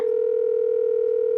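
A steady telephone dial tone holds alone for about a second and a half before cutting off, heard as someone picks up the phone to call their daughter.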